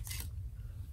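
A single quick snip of scissors trims a thin sliver off paper, close by and brief, with no one talking.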